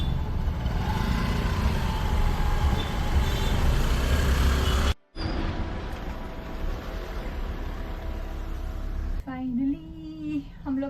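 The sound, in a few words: traffic jam in Shillong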